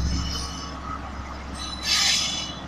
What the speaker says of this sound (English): 212 departing Wellington, with DL's on charge.